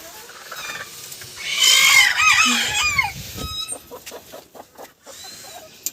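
Several chickens clucking and squawking close by, with a loud burst of agitated calls in the middle that settles into scattered clucks.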